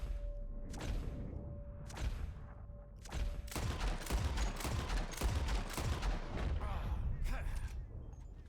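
Gunfire rings out while targets are being shot in Red Dead Redemption 2: a few spaced shots, then a dense flurry of sharp cracks over steady outdoor ambience, with game voices speaking underneath.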